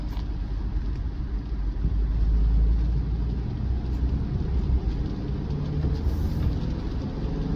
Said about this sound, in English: Now we're merging onto the highway.